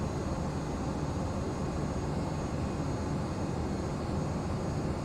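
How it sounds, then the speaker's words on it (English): An airliner takes off from runway 26 in the Prepar3D flight simulator at Burbank, a steady loud roar of jet engines holding constant throughout with no talking. "it looks like we have one airplane taking off runway 26 right now"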